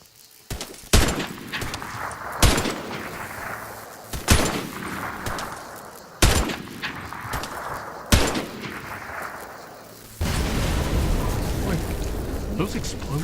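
Gunfire from shooting enemies in the video game UAYEB rings out in loud, sharp single shots roughly every two seconds, each decaying into a rumbling tail, ending in a sustained noisy burst.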